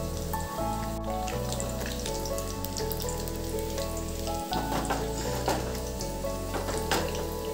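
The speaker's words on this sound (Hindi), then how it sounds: "आप अपने अंदाज से तेल डाल के यहाँ पर उलट उलट के फ्राई कर लीजिएगा।" Cauliflower koftas fry in oil in a kadhai, giving a steady close sizzle and crackle while the pan is shaken, with a low hum underneath.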